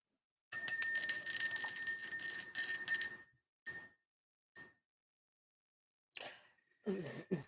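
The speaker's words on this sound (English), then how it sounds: "we're going to go ahead and ring the bell, clear the energy" Bell rung during a live spiritual session, a bright metallic ring struck and left to shimmer for a few seconds, then a few shorter separate strikes fading into quiet, with a brief soft voice at the end.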